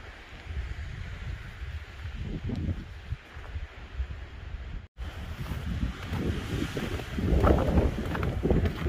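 Wind gusting across an open mountain bald, a loud rushing buffet on the microphone that surges and eases, briefly dropping out before swelling stronger toward the end.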